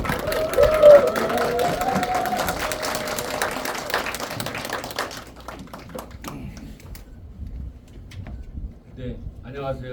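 Audience applause at a mayoral candidacy announcement and press conference in Ansan, loud clapping for about five seconds that then thins out, followed by quieter room noise and people beginning to speak.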